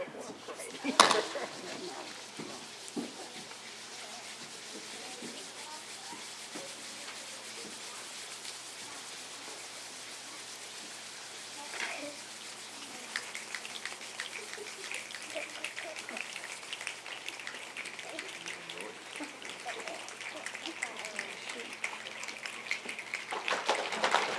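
A youth group makes soft, scattered finger clicks and rubs that build from sparse pitter-patter into a denser, rain-like patter, imitating rainfall.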